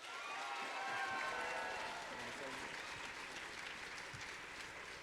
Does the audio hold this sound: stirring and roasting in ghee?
no